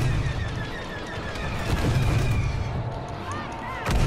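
Rapid blaster fire aimed at a barricade in Star Wars Battlefront 2, dense bursts of shots and booms layered over continuous battle noise for several seconds, with a voice briefly talking over it.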